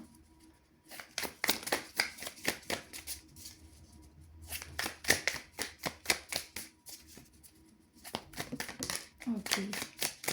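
Playing cards are shuffled and handled close up in rapid bursts of crisp riffling and flicking, broken by short pauses, as someone speaks quietly in the background.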